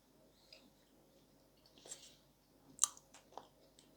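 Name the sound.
crunchy chewing of Bashkir clay called khrum-khrum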